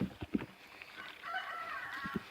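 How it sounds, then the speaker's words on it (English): Chickens call faintly in the distance on a homestead, with a drawn-out, wavering rooster crow in the middle and a few soft knocks and bumps nearby. "You can hear the birds definitely calling."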